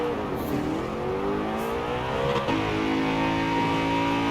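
A BMW M3 GTR race engine, heard from inside the cabin in Forza Horizon 4, revs and climbs in pitch with a loud, continuous drone and a brief shift break midway.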